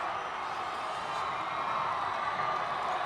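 Crowd noise fills a basketball championship gym between the Friars and Warriors after a late basket, a steady, loud roar of cheering with no clear breaks, heard from the broadcast position.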